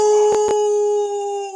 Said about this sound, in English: I'm going to try to get through the dog's noise,